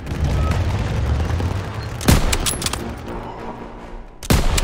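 Gunfire from the Call of Duty WW2 Stronghold mission forms a dense, rumbling battle bed with a couple of sharp, loud shots standing out.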